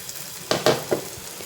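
Pesara burelu, sweet mung-bean fritters, deep-frying in hot oil, giving a few brief, soft sizzling bursts close by against a quiet background.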